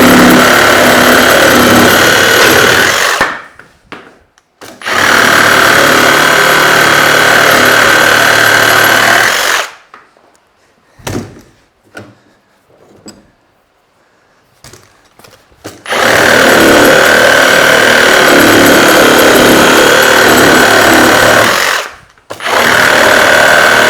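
A Milwaukee Sawzall fitted with a worn carbide-tooth AX blade saws through timber in two loud, sustained buzzing bursts, with a short stretch of quieter clatter and handling between them.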